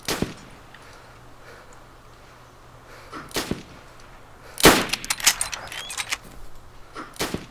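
A scoped rifle (ACOG) fires in DayZ: three sharp, separated cracks over a quiet outdoor hum, the middle one loudest and followed by brief rattling echoes.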